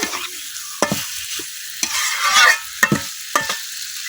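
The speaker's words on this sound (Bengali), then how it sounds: "মাংসের সাথে আমি মশলাটা খুব ভালোভাবে মিশিয়ে নিচ্ছি।" Chicken feet being mixed with spices in a pan: a close sizzle of frying broken by several sharp spoon scrapes and clacks at an irregular rhythm, with no talking.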